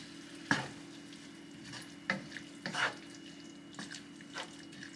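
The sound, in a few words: stir-fry vegetables and sauce mixture being mixed in a pan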